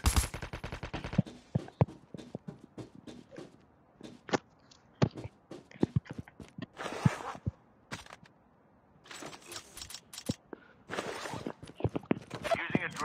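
Rapid bursts of gunfire from a zombie survival video game come in dense volleys with short gaps, mixed with footstep-like clatter and voices talking over the shooting.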